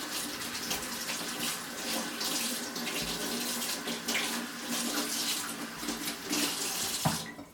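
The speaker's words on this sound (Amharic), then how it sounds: "አሁን እናጥባለን ማማሰያውን።" A wooden stirring stick rinsed under a running tap while brewing Ethiopian tela, a steady close splashing stream of water hitting the stick and basin for several seconds, with no talking.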